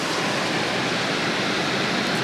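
A roadside waterfall in the Great Smoky Mountains pours as a steady, dense broadband rush of falling water, loud and close, with no voices.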